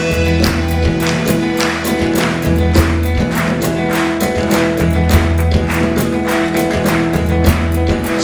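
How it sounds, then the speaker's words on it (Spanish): Hands clap steadily in time with live folk music, a regular, evenly spaced beat of claps over sustained instruments at a concert. "Haciendo palmas."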